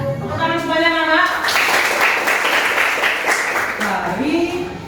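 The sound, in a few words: children clapping hands in class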